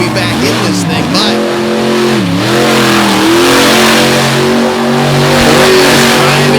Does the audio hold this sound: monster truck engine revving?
yes